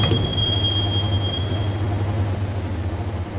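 Max Payne subway train riding along, a steady low rumble with high wheel squeal early that fades after about a second and a half, continuous and alone.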